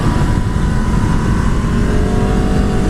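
A 200-horsepower Aprilia RSV4 sport bike engine roars loud and close while being ridden, a dense, sustained high-revving drone with wind rush and no voices.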